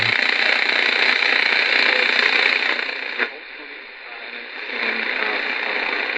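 A distant daytime AM station at 870 comes in faintly on a GE P4845 radio as a hissy, static-laden broadcast, briefly dropping lower before the noisy signal returns.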